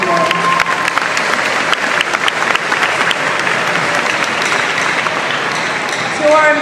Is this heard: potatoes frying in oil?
no